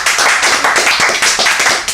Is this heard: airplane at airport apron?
no